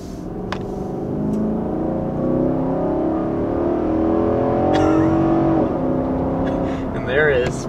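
A 2021 Nissan Armada Midnight Edition SUV accelerates past 60 mph, a steady engine drone and road rumble building under a talking voice inside the cabin.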